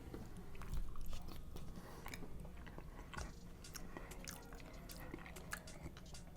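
Close, quiet chewing of soft potatoes seasoned with masala spices and a touch of cinnamon, from a Sanaa dinner at Disney's Jambo House, with moist, squishy bites repeating steadily and no talk.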